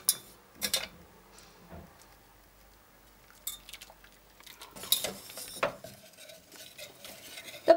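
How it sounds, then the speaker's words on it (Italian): A spoon stirs chocolate ganache of melted dark chocolate, cream and honey in a bowl, giving soft scraping and occasional light clinks against the sides, quiet and close with no talk. "andiamo ad aggiungere il burro e continuiamo a mescolare"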